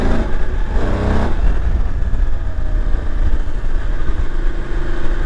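A Voge 900 DSX motorcycle engine revs as the throttle opens, a loud close surge early on that settles into a steady running drone.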